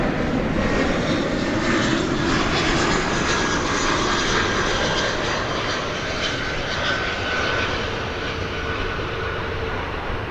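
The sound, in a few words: airliner from Denver arriving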